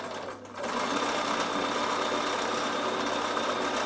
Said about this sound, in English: I'm top stitching this seam down, okay, with my lovely variegated thread